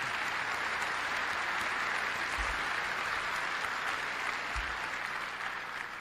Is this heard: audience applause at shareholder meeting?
yes